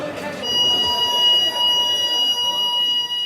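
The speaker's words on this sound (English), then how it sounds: "staff can activate an alarm system to call for help" An alarm system sounds inside a prison to call staff for help: a steady, shrill, multi-tone electronic buzzing holds throughout, loud and continuous over a noisy background with people talking.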